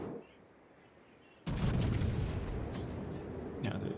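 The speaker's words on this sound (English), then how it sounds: "I think those rounds were from the Yamato over there." Heavy naval gunfire from the battleship Yamato in World of Warships, a loud, sudden broadband boom that rumbles on for several seconds, with a second fainter blast near the end.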